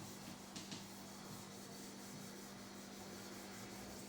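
Steady, continuous rubbing of an eraser or duster wiping writing off a board during a maths lesson, a soft broadband scrubbing texture held for about four seconds at low level with no voices.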